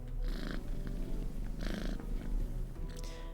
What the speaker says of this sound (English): he's petting the stray while the cat continues to purr loudly